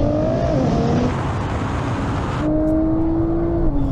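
A sports car engine roars loudly at close range during a drag race, its tone climbing and shifting as it accelerates and changes gear, with no talking.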